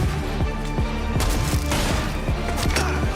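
Rapid bursts of gunfire from a video game trailer, loud and continuous, with sharp repeated shots and heavy booming hits over a dense backdrop.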